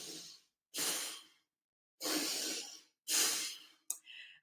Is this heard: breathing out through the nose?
yes